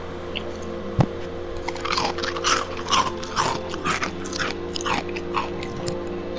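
Someone chewing loudly right up against a microphone while playing Sid Meier's Civilization VI, a run of wet, crunchy bites and mouth clicks close to the mic over a steady hum, with no talking.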